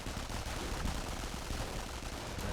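Volksgrenadier machine guns in a Company of Heroes battle rattle in continuous dense bursts, loud and close, a steady wall of automatic fire with no pauses and no voices.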